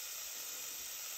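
A pot of spaghetti water boils on the stove, giving a steady, even hiss of steam and bubbling that holds constant throughout, close and fairly quiet with no voices.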